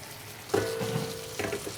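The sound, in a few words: food frying on a stove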